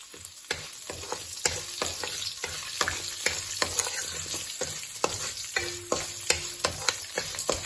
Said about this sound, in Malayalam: ഇഞ്ചിയുടെ പച്ചമണം മാറിക്കഴിയുമ്പോൾ നമ്മളിതാ പച്ചമുളകും ചുവന്ന